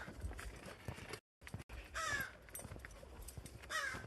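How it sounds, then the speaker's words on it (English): Macaws calling at a zoo, harsh raucous squawks arriving in a few separate bursts over a noisy outdoor background, fairly distant, with a brief dropout of sound partway through. "Oh, hear the macaws."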